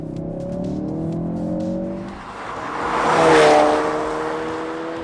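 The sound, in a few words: 2016 Ford Focus RS 2.3 liter engine accelerating in second gear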